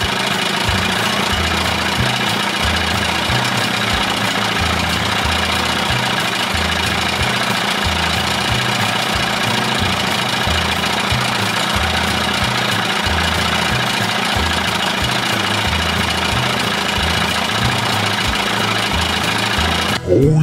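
Old Johnson 25 hp outboard engine fitted with a big intake running steadily, a close, loud, lumpy low-pitched idle with a rapid regular knocking pulse that holds even for about twenty seconds.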